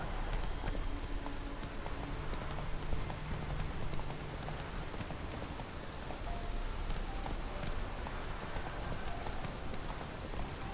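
Roach's hooves clatter in a steady clip-clop rhythm as the horse rides in The Witcher 3, close and continuous beneath a hissing, rain-like wash of ambient noise.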